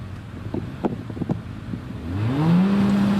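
A Force TA hillclimb car with a 1600cc Hayabusa engine and chain drive launches at Prescott, a few sharp pops and flaps giving way to a rising, steady engine howl that builds as the car pulls away.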